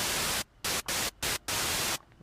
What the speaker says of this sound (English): Gotta love a bit of white noise.